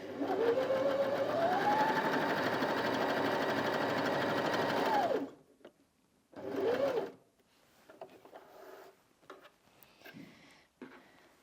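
A Janome Sewist 725s sewing machine stitches a zigzag in one steady, close whirring run of about five seconds, then gives a short second burst before falling quiet apart from small handling clicks.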